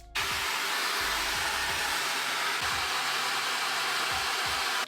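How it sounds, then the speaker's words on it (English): A hair dryer on the hot setting blows steadily with a loud, continuous whooshing hum, close up and unbroken for several seconds, no voices. "keeping the hairdryer at least 6 inches away from your hair, just while it's on the hot setting"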